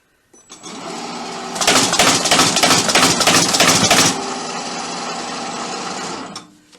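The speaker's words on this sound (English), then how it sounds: "And then I push this button. It's going to be noisy for a second." A newsletter folding machine whirs on, then clatters rapidly and loudly for a few seconds before settling back to a steady hum and stopping.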